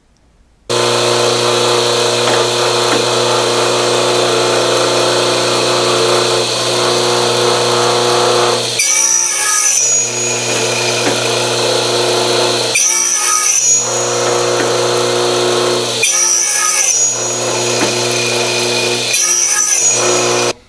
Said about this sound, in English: As you can see, it's a radial arm saw